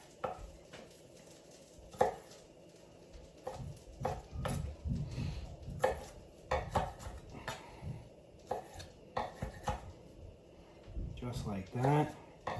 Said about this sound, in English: I got beautiful blackberries right here, and I'm just going to cut them into 4